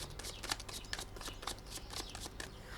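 Tarot cards are shuffled in a continuous soft flutter of riffles and slides, close and quiet, with no voices over it.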